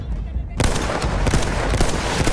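Dense gunfire in the Battlefield 1 video game, a steady loud burst of rapid shots starting abruptly and continuing with sharp cracks, with a voice faintly underneath.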